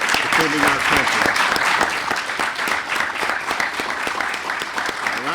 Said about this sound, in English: I would just like to give them a round of applause for defending our country